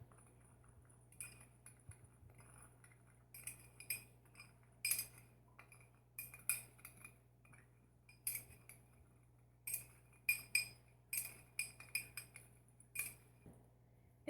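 Microwave chips are mixed with salt, onion salt, garlic powder and smoked paprika, giving faint, irregular clinks and taps of a utensil against a dish. There is no talking.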